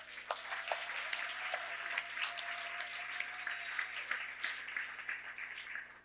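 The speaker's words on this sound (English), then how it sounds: "Let's give her a round of applause." A round of applause from an audience in Aspen honoring a departing former ambassador, steady moderate clapping from a crowd heard fairly faintly and evenly throughout, with no speech over it.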